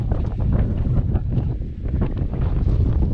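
Strong wind buffeting the microphone on trails around Huntington Ravine, a continuous low rumbling roar with gusty fluctuations and no talking.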